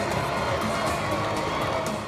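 A distant video game crowd at a MotoGP 20 podium cheers and claps in a steady, unbroken wash of noise with faint shouts mixed in.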